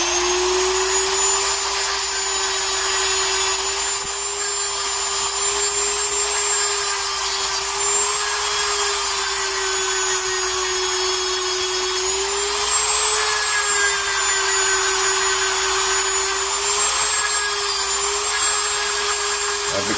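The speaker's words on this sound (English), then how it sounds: "I use my Dremel little sanding wheel on there, and we're going to just rough up the handles a little bit" A Dremel rotary tool with a small sanding wheel roughs up wooden pick handles, giving a loud, steady high-pitched whine that holds for the whole stretch with slight pitch wobbles as it bears on the wood.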